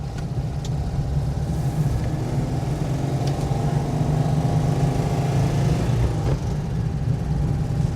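A Citroen Visa Phase 2 engine drones steadily from inside the car while driving, a loud, constant low hum with road noise and no talk.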